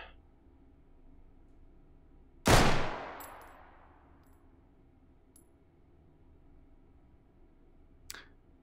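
A single sharp, loud WA2000 sniper rifle shot in the VR game Hot Dogs, Horseshoes & Hand Grenades, with a long ringing tail fading over a couple of seconds, followed later by a faint metallic click.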